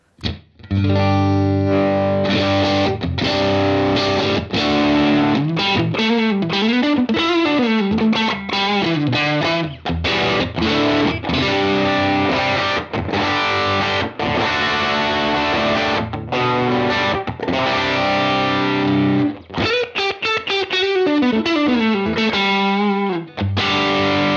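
Electric guitar through a UAFX Enigmatic 82 Special overdrive amp pedal plays a busy riff with gritty sustained chords and quick bends, continuous and loud with a brief pause near twenty seconds.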